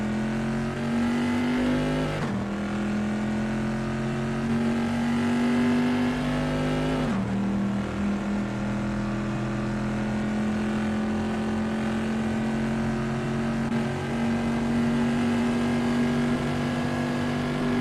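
A Bizzarini race car in a racing game lapping Imola, its engine droning steadily at high revs with two sharp gear-change dips, close and loud throughout with no talk over it.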